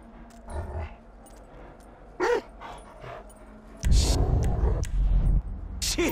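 Chop the dog in Grand Theft Auto V lets out a few short, whining barks and pants, spread across the moment, with louder rustling, shuffling noise breaking in partway through.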